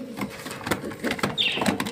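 Pigeons in a bird shop give soft, low, rolling coos, close by and repeated over a busy background of rustling and faint bird calls, with no talk.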